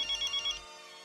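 A telephone rings in a quick run of electronic trilling pulses, four short bursts at moderate volume, then stops, leaving a faint room hum.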